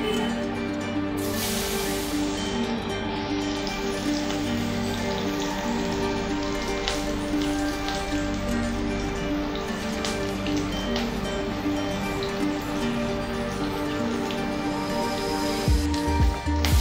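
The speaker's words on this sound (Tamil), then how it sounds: "எண்ணெயில் போட்டு பொரிச்செடுக்க" Banana flower vadai deep-frying in hot oil, giving a steady, dense crackling sizzle that runs unbroken and fairly loud from start to finish.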